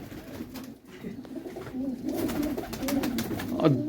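Pigeons coo in soft, throaty, repeated rolling calls close by at a rooftop loft, with faint background noise and no speech.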